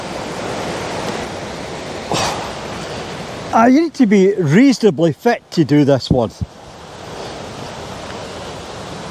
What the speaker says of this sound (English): There's a set of rapids down there.